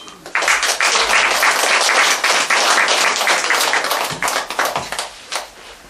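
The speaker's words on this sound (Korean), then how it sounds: "다시 한번 권산 작가님께 큰 박수 보내주세요." An audience at a literary reading gives dense, steady applause, many hands clapping together loudly for several seconds before it thins toward the end.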